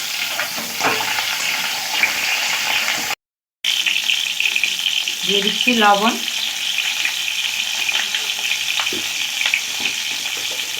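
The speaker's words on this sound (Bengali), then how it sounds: "একসঙ্গে একটু 1 থেকে 2 মিনিট ভাজা ভাজা করে নেব।" Eggs and whole onions fry together in a pan with a loud, continuous sizzle and stirring scrapes, briefly cut out once, while a voice speaks a few words.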